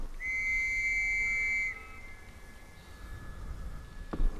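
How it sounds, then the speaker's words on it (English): A trench whistle in the World War 1 horror survival game Trenches sounds one loud, sustained shrill tone for about a second and a half, then cuts off, leaving a faint distant whistle and low ambient rumble. "Okay, use the trench whistle."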